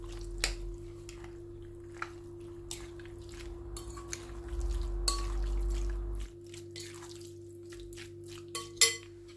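Paprika, onion powder and oil being mixed in a bowl, with soft wet squishing, scattered clicks and clinks of a utensil, a low hum underneath and a couple of louder taps toward the end.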